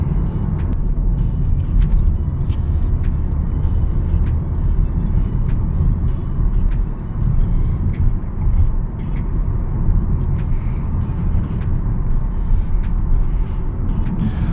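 Interior of a 2023 Hyundai Tucson with the 2.0 MPI engine and 4WD cruising in normal mode: a steady low road and engine rumble fills the cabin, with faint ticks and clicks above it and no talking.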